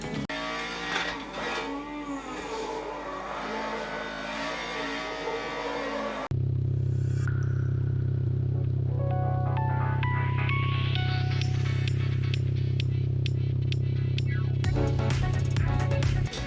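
A Toyota AE86 driven hard down the Myogi mountain pass in a racing simulator; music plays first, then a loud engine drone rises and falls through gear changes, with intermittent tire squeal.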